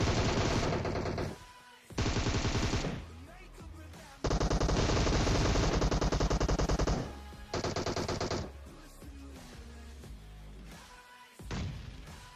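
PUBG Mobile gunfire erupts in loud, rapid automatic bursts separated by short gaps, with sharp single shots and thuds scattered between.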